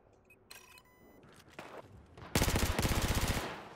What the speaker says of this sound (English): Yeah, I got a machine gun now.